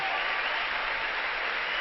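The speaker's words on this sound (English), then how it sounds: "the fans here at Mile 1 continue to stand and applaud their hockey club" Hockey fans at a Calder Cup Finals game stand and applaud their home club, a continuous roar of arena clapping and crowd noise, loud and even throughout.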